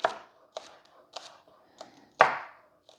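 A knife slices green onions (scallions) on a cutting board in five separate close chops spaced roughly half a second apart, the fifth one loudest. There is no talk.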